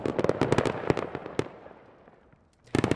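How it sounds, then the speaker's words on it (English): A tank's ammunition cooks off in the Squad video game, a rapid cluster of sharp cracking blasts that fades into a decaying rumble before another burst of pops erupts at the end. "she cooks off her ammunition"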